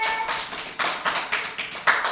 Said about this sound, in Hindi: ताली बजाओ सभी जोर से